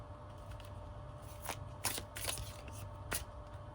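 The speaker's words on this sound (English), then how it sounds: "have been shuffling these in bits and pieces because I can't shuffle them all at once" Tarot cards are shuffled in small batches, giving soft quick riffling bursts with brief pauses between them, close and quiet with no talking.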